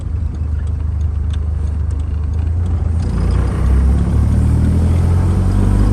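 A Bugeye Sprite's 948 engine drones steadily while cruising in 4th gear, a loud, close, low rumble that swells slightly partway through, with no talking.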